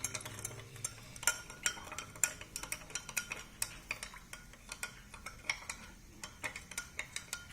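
A spoon stirs a mixture inside a glass cup, tapping and clinking against the sides in a quick, fairly regular run of small, faint ticks that continues for several seconds.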